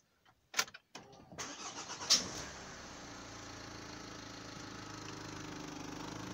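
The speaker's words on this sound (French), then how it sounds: "je vais démarrer le véhicule pour vous faire entendre" A 2.0 dCi diesel Renault Laguna 3 Coupé with 216,000 km starts up: a few short cranking bursts, then the engine catches and settles into a steady, droning idle with a dashboard vibration, heard close and alone.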